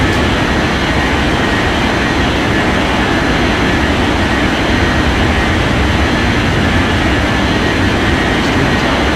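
An airliner jet taking off in an air traffic control video game, a loud continuous engine roar with a steady broadband rush and no change in pitch.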